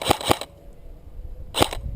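A KWA SR-10 airsoft rifle fires outdoors during an airsoft game, giving two quick sharp cracks, a pause, then another pair of sharp shots, loud and close.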